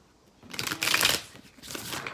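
A brief burst of cards being shuffled, a crisp riffling flutter that swells, fades, then picks up again, close and fairly quiet, with no voices.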